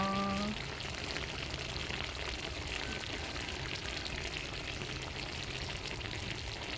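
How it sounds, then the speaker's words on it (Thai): Drunken noodle stir-fry with pork bubbling and sizzling in a pan, a continuous dense crackle of frying at moderate distance, steady from start to finish. "ปล่อยให้เขาเดือดอีกนิดนึงนะคะ"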